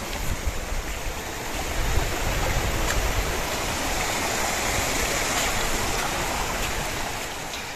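Water drains from the bottom of a sturgeon farm pond in the forest and pours back into a stream, a steady broadband rushing and splashing that holds constant throughout, close by.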